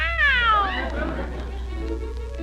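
A voice imitates a cat with one drawn-out, falling meow over a steady low hum. A murmur follows.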